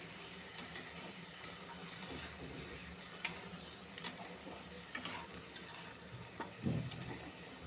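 Vegetables are stirred with spices in a pan for oats khichdi, with a faint low sizzle and a few soft spoon taps and scrapes scattered throughout, quiet and close with no talking.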